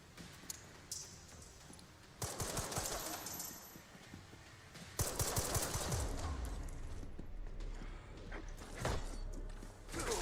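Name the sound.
Requiem gun shots in the video game Resident Evil Requiem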